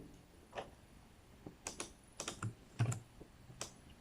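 Computer keyboard keys pressed while pasting with Ctrl-V in an Excel spreadsheet, a handful of soft separate clicks with gaps between them, close and quiet, no talking.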